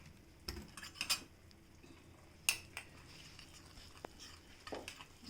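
Mustard powder stirred with a little oil in a pan while cooking Kanda Bachali Kura, giving sparse light clinks and scrapes of a spoon against the vessel, a few sharper taps spread over several seconds, close and fairly quiet.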